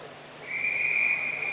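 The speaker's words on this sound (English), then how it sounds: "They get the whistle." A single sharp start whistle blows at a track cycling race, one sustained shrill blast lasting about a second over low arena murmur.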